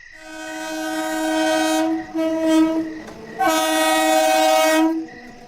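A train sounds its horn as it comes into a station at night, with long sustained blasts broken by short pauses, loud and close, with no talk over it.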